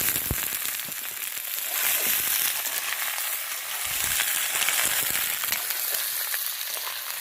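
Chicken frying in a pan with ginger-garlic paste and spices at an outdoor jungle picnic, giving a steady, loud sizzle with crackles and occasional stirring scrapes throughout.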